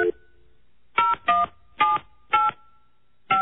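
Touch-tone keys sound as someone dials a cell phone from a radio studio line, giving five crisp, separate beeps at an uneven pace, clear and close.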